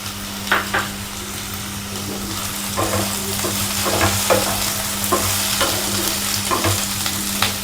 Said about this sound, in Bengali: এবার আমি এর মধ্যে কাঁচা লঙ্কাগুলো দিয়ে দেবো।